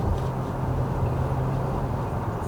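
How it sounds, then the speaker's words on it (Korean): Steady low rushing wind noise with a constant road rumble, air buffeting around the window of a Kia Sportage The Bold 1.6 diesel at speed, continuous and fairly loud. "차창 요 주변에서"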